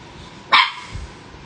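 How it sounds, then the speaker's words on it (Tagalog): A single sharp bark from a pet dog named Ginger, close and loud, at an indoor home livestream, followed by quiet room tone. "Nagtatahol na ang bebe."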